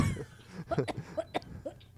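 Several short, rough coughs come in quick succession, close to the microphone, with some low background noise.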